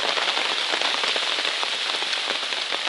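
Steady rain pattering on a trekking umbrella on a trail near Thundering Falls, a dense close drumming of drops with no wind, continuous and even throughout.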